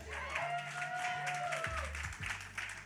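An audience claps at a community outreach session, a steady wash of applause over a low musical hum and background voices.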